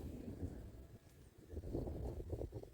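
Cold, dry wind blows steadily at a village on the Laos–Vietnam border, a low rumbling gusting roar buffeting the microphone with no one speaking.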